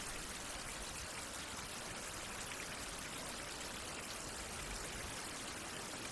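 Steady, dense rain hisses without a break in the survival game Survival: Fountain of Youth, an even wash of noise with no voices over it.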